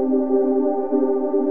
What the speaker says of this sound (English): And let's also add this atmospheric ambient sound,